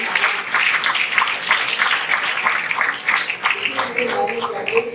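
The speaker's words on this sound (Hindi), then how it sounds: "स्कूल के लिए तालियां बजवा दीजिए" An audience claps at a seminar, steady applause with voices talking over it, the clapping continuing throughout before a voice rises near the end.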